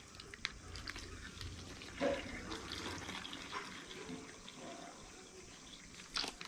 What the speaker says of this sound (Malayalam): ഒരു പാക്കറ്റ് പാൽ നമ്മൾ ഒഴിക്കുകയാണ്